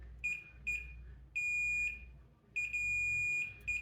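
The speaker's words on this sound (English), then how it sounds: "we just touch our terminals together. We got our beep." A continuity tester beeps as its terminals touch during a KitchenAid food processor repair: several short high-pitched beeps, then longer sustained tones, clear and close in a quiet room.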